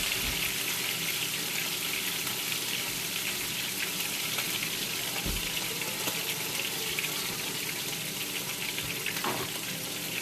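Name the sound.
water running from tap while washing hands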